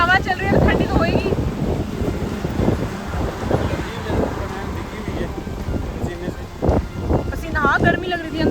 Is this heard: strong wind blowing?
yes